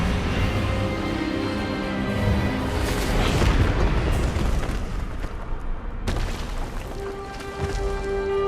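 A booming magical spell blast in the Hogwarts Legacy video game, a dense, roaring burst with rumbling low end that swells through the middle and then settles into a sustained hum.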